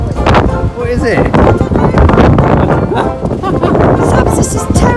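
Gusty wind batters an outdoor microphone in loud, uneven bursts, mixed with a person's voice and scattered bumps.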